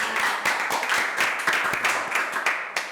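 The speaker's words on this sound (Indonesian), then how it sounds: "Tepuk tangan dulu sekali lagi buat program studi destinasi pariwisata" An audience claps for a tourism destination study program during a campus talk session, giving a sustained round of many hands with crisp individual slaps that stays steady, fairly close and loud, with no speech over it.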